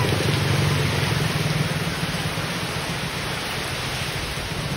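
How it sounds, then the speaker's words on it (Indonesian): Heavy rain pours under strong gusting wind during a storm in Banyuwangi, a dense, loud, unbroken roar of rain and wind with no voices. "hujan angin"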